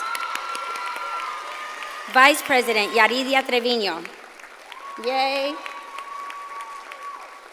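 At the Harlingen School of Health Professions 2022 commencement, a crowd applauds with scattered whoops behind an amplified announcer who names new student council officers, the clapping a soft, steady bed beneath her voice.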